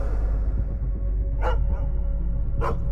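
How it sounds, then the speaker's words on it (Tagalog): Dogs bark far off, two short clustered bursts of yapping over a steady low hum and rumble. "Isang dosenang aso ang tumatahol mula sa malayo."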